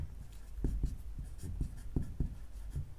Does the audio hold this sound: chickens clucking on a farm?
no